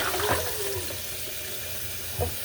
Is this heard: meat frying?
no